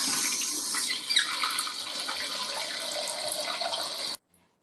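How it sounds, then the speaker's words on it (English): Water rushes steadily into a toilet tank refilling after its flapper seal was fixed, a continuous hiss and trickle at close range that stops abruptly near the end. "you want to turn the water back on to the tank"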